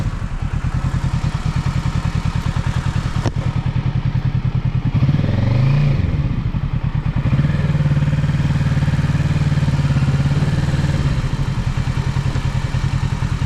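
A Kawasaki 650 sports tourer motorcycle engine thrums close by in a rapid, even pulse, then swells into a louder rising rev midway before settling back, with no talking.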